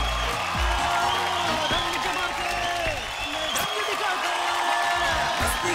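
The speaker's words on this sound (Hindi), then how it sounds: "तालियों के साथ उनका स्वागत कीजिए।" A studio audience applauds and cheers steadily as a judge is welcomed onto the stage of a talent show, with whoops and a loud, sustained crowd wash and some talk mixed in.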